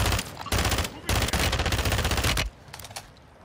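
Automatic fire from an FR Avancer rifle in the Warzone video game, Vondel Park map: loud, sustained bursts separated by brief gaps, then a quieter trailing sputter of shots.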